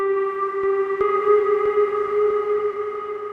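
Sustained melodic tones from a Nord Drum 3P, bright and ringing with an effect-laden echoing tail, holding steady with faint soft ticks underneath and no talking.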